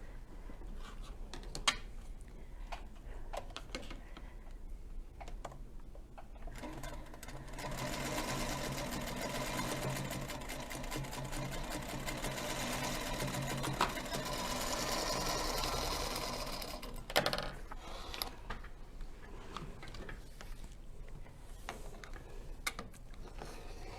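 A Featherweight sewing machine runs steadily for several seconds with a fast mechanical whir, quieter handling clicks before and after.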